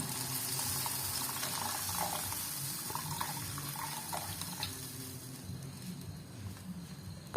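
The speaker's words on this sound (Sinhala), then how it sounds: "ඊට පස්සේ මේක වතුර ටිකක් දාලා." Water is poured into a pot of chicken curry being cooked, a steady splashing, gurgling pour that runs for several seconds before fading out, with a sharp knock at the very end.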